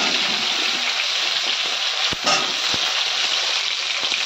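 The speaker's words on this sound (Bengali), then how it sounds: "পুরা মাছটা ভাজা হয়ে গেছে" Whole large fish frying in hot oil in a pan on a gas stove, a steady loud sizzle throughout with brief crackles and spatters near the middle.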